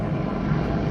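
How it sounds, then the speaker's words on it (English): An airplane passing overhead produces a steady, broad engine roar, moderately loud and continuous through the short stretch. "Excuse the plane."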